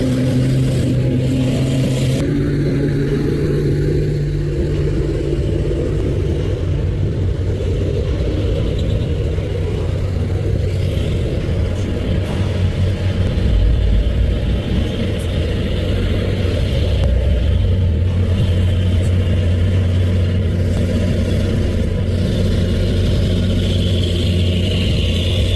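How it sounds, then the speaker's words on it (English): An overloaded Tronton truck strains up winding hills, its heavy engine giving a loud, continuous low roar and rumble that swells slightly in the middle and again toward the end, with no voices present. "The giant Tronton truck, already heavy and now overloaded with cargo, roared up the winding Kodak Hills."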